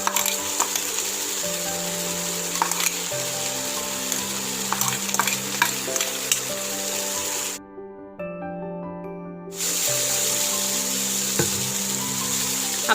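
Pathila thoran, a leafy Kerala stir-fry, tossed with crushed coconut in a hot pan, with steady close sizzling and repeated scraping stirs that cut out briefly partway through and then resume.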